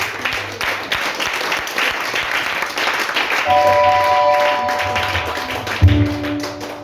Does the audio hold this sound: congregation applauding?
yes